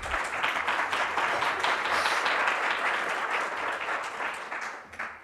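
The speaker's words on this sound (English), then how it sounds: "yes, I think we can applaud." A conference audience at a university kick-off event in Podgorica, Montenegro applauds steadily, a dense wash of many hands clapping that holds for several seconds before thinning out at the end.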